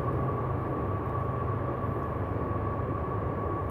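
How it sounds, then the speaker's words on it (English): In woods, a faint, steady low rumble drifts from far away, like trains rolling past in the distance, with no voices. "I hear trains."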